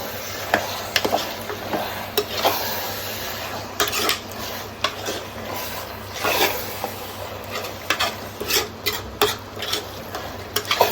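Mutton curry is stirred in a pan, with repeated close scraping and clattering of a spoon against metal in an irregular rhythm.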